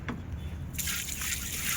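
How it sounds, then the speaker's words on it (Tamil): Water being poured into an air conditioner compressor, a steady trickling and sloshing that starts abruptly partway through and continues close and fairly loud, with no talking. "இப்போ ஃபுல்லாக தண்ணி ஊற்றிட்டேன் கம்ப்ரஸரில்"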